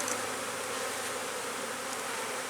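Honey bees hum in a steady, dense drone at an opened hive frame heavy with honey during a warm-weather spring inspection, the buzzing close and continuous with no voices.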